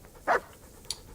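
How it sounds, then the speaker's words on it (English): A dog in the video game Kingdom Come: Deliverance gives a short, fairly faint bark, followed by a brief high yip a moment later. "There's the good doggy."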